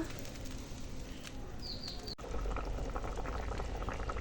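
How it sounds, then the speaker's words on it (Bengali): A pot of broth made from pumpkin fried with spices and vegetables bubbles at a steady rolling boil, a busy close gurgle that briefly dips after a sharp click and then returns louder. "তো দেখো এখন ঝোল ফুটে গেছে"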